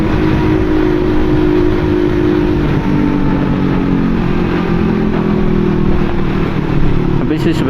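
Motorcycle engine held in fourth gear while riding, a steady, loud droning hum with wind rush, close to the microphone, nearly constant throughout with a slight rise near the end.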